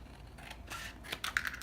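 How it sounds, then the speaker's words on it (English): Scissors snipping through scrap paper while trimming a traveler's notebook insert, a few close, quiet crisp cuts with a sharper snip near the end. "And then you just open it to the inside and you cut."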